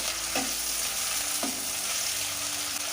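Chopped onions fry on a high flame with a constant crackling sizzle up close, and a couple of brief stirring scrapes cut through the hiss.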